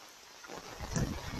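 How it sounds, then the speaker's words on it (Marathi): Wind and heavy rain on a Konkan creek during a stormy downpour, a steady broadband rush that swells louder midway, with gusts buffeting the microphone. "आणि एकदम वारा पाऊस, जोरदार पाऊस."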